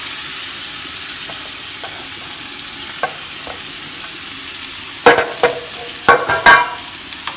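Onions and tomatoes sautéing in a pan, with a soft, continuous sizzle and a few faint early scrapes that give way to a run of sharp, loud spoon clatters against the pan near the end.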